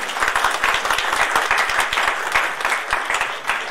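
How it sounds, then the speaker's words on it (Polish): A conference audience at a Polish-Czech tourism congress bursts into loud, close applause, dense hand claps with a few sharper nearby claps sustained throughout, with no talk over it. "na niej wielkie brawa"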